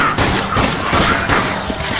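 A charged gunshot rings out in the zombie video game Dead Nation, a burst of loud, rapid blasts and thuds packed into about two seconds of heavy, close gunfire.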